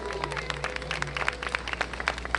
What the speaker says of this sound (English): I want you to give my sister Lakshmi and her team a round of applause also